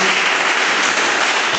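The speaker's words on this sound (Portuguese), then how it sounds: "dê uma salva de palmas bem alegre para Jesus" A church congregation claps together in dense, steady applause, loud and continuous for the short stretch, with no voices standing out.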